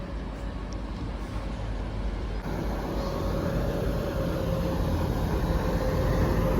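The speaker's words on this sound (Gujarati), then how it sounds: "મોટી ટ્રેન નથી ખાલી એન્જિન આવ્યું છે" A lone train locomotive running without wagons rolls past close by, a loud, steady mechanical rumble with a faint sustained whine that grows slightly heavier midway and holds to the end.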